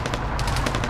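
Grenade launcher fire in the Arma 3 military video game, heard as a rapid series of punchy, close shots over a dense low-end rumble of battle noise, with no talking.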